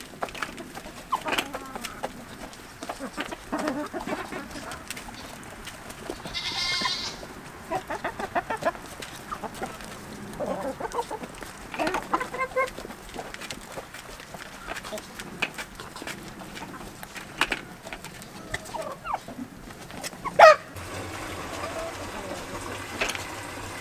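Chickens cluck and squawk on and off through a noisy farmyard scene, with people talking at times and scattered clatter. No goats are clearly heard.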